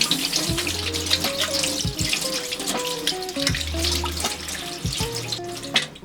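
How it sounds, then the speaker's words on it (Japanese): Running tap water pours steadily over raw beef tongue being rinsed in a kitchen sink, with a broad continuous splash and occasional louder bursts as the meat is turned under the stream. "でまずこれをですねしっかり洗っていきます"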